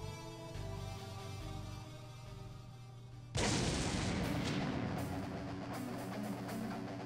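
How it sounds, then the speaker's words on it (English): A gunshot and explosion in the visual novel Dies Irae Amantes Amentes, a sudden loud blast breaking over sustained music and trailing into a dense rumbling roar. "The bullet hit Wilhelm in the chest, followed rapidly by an explosion."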